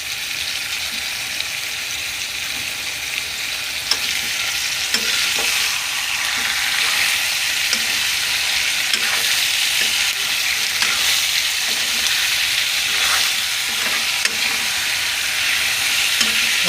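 Potatoes fry alongside chicken in a hot pan, giving off a steady, even sizzle with light crackles throughout and no talking.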